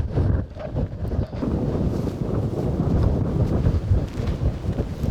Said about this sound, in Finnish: Tekee nyt tämä tuuli erittäin haastavaksi tämä väylä